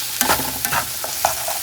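Onions and garlic frying in butter for a meatloaf, a close steady sizzle with a few spoon scrapes and stirring knocks over the short stretch, no voices.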